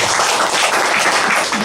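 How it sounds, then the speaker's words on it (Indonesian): A congregation applauding at a gathering, with loud, dense, steady clapping that fills the whole short stretch, with no voice over it. "Kasih tepuk tangan yang meriah."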